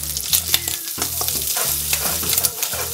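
Garlic frying in a pan while being stirred, heard as constant close sizzling and scraping strokes of a spoon across the pan in a quick, irregular rhythm, with a low steady hum underneath and no speech.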